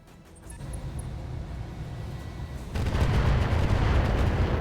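Weapon fire in the RogueTech mech game rises from a quieter rumble into a sustained, loud, broadband roar of blasts that continues to the end.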